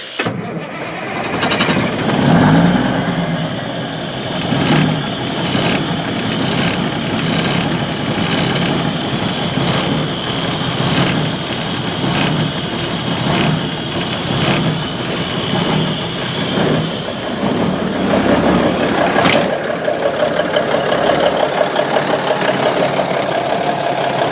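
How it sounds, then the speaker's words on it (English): The Cummins diesel in a 1971 Autocar A64F truck cranks with a rapid rhythmic chug for several seconds, then catches and settles into a loud, steady, close idle with a pulsing beat. "Cummins fires up real nice."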